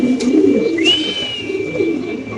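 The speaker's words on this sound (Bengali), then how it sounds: "ব্লু বার মুন্ডিয়ান নর কবুতর" Blue Bar Mundian pigeons, a male among them, coo in low rolling murmurs at a pigeon loft, with steady near cooing throughout and a brief higher whistle-like tone midway.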